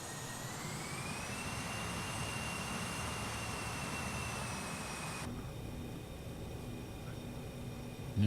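Steady, loud aircraft engine drone in Microsoft Flight Simulator 2024 as the plane taxis uphill with power added, holding a constant roar with a high whine that rises early and then cuts off partway.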